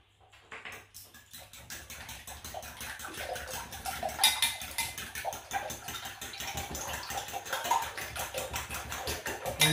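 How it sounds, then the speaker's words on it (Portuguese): A whisk or fork beats eggs seasoned with salt and nutmeg in a bowl, a fast, close, steady clatter of rapid rhythmic taps that grows louder and more vigorous over the stretch. "vamos bater bem para misturar"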